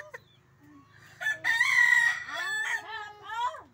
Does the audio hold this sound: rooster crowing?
yes